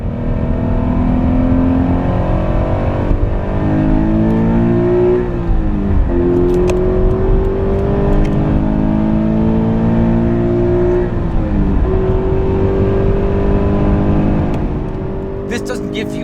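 Toyota GT86 pulling hard in second gear, a close, steady engine note climbing in pitch through several rising sweeps with brief dips at shifts, while someone talks over it.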